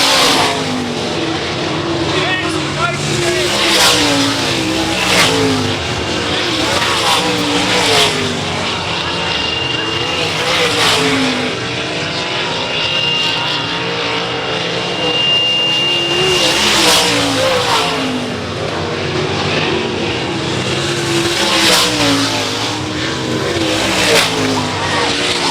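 Sprint cars race at Ionia Raceway Park, engines roaring loudly and continuously as cars pass wheel to wheel, with repeated swells as they sweep by under a commentator's voice.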